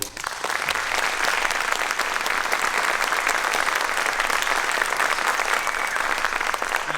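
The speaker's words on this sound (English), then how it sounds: "let's give this wonderful group another round of applause" Sustained, dense applause from a concert audience, even and full-bodied for several seconds without talk.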